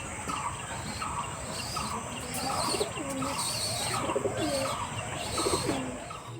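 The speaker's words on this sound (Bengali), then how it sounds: "তো দেখো আমাদের পায়রাগুলো কি সুন্দর বসে রয়েছে।" Pigeons coo in repeated soft, rolling phrases at a gentle rhythm, fairly close, with faint chirps and light background noise.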